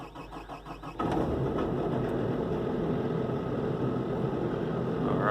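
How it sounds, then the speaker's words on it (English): An excavator's engine runs at a steady, loud idle, a dense even rumble that starts about a second in after a quieter, uneven mechanical chatter. "You'll hear the engine."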